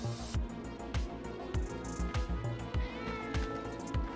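A cat meows repeatedly close by, a series of short rising cries at an uneven rhythm, fairly loud, with some background voices underneath.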